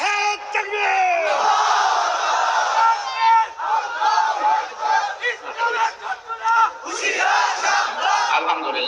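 A large crowd at an outdoor Islamic religious sermon gathering in Ashulia, Savar roars a loud, sustained unison chant of takbir in answer to the call, with the massed voices swelling and pulsing in waves throughout.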